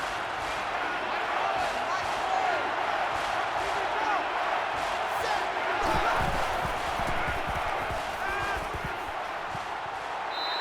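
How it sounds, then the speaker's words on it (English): A stadium crowd roars steadily through an NCAA 14 college football video game simulation of Ohio State at Michigan, with a broadcast-style commentator talking over the noise. "they're definitely using that crowd noise to their advantage here"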